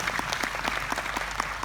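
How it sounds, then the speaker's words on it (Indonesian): Church congregation clapping during a sermon, a rhythmic, steady beat of unison hand claps, moderately loud and close, with faint crowd murmur underneath. "Puji Tuhan, saudara, tepuk tangan."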